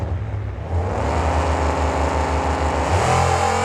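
Big monster truck engines rev and roar together at the start of a stadium race, rising in pitch as the trucks accelerate away, loud and close without any voices.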